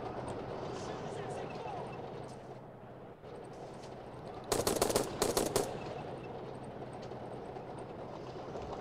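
Gunfire in the video game Call to Arms, a tight burst of rapid loud shots over steady background rumble, with a player talking throughout.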